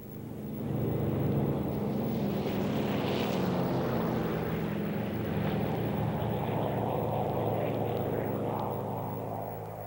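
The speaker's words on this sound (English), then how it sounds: "The Mustangs take off" P-51 Mustang fighter planes take off, their propeller engines producing a steady low droning roar that swells and holds at moderate distance, with a hissing whoosh passing midway.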